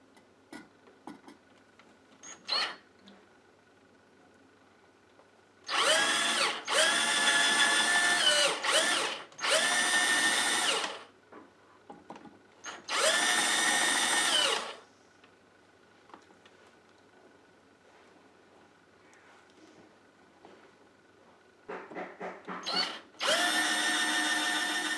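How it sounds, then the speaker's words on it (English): A power drill whirs in several bursts of a few seconds each, drilling out metal rivets on a Dinky Toy 252 refuse truck model, separated by quiet pauses with faint clicks and handling noises. "I can now drill out the rivets"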